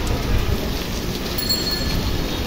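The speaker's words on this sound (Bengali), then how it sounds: "হঠাৎ অনেকদিন পর বৃষ্টি" Rain falling in Dhaka city, a steady broad wash of drops with low rumbling beneath, fairly loud and continuous throughout.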